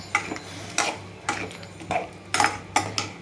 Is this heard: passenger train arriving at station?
no